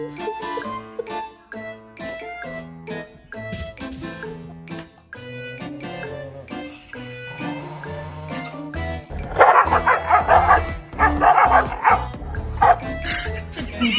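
A dog gives a run of yips, whimpers and short barks, close by and moderately loud, with people's voices chattering faintly around it.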